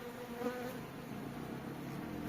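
A dense, steady buzz of many honey bees swarming close by, continuous and fairly loud with no speech.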